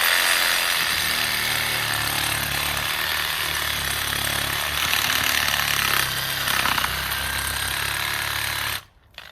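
Chainsaw cutting through the top of a freshly felled live sweet gum tree with a roughly 2.5 inch stump, a loud, continuous rough buzz close by that labors and cuts off abruptly near the end.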